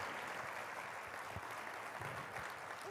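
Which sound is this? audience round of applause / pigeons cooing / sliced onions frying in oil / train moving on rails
audience round of applause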